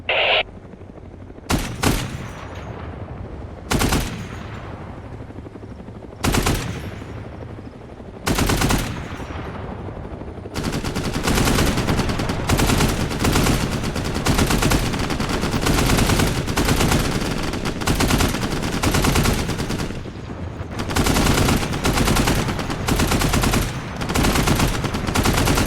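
Machine guns fire at helicopters in the military game Arma 3: loud bursts rattle out at first with short pauses between them, then give way to long, nearly continuous sustained fire.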